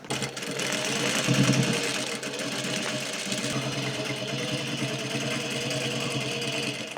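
A sewing machine stitches dungaree fabric, continuing a seam where stitches were unpicked, running steadily and fairly loud for the whole stretch with no talk.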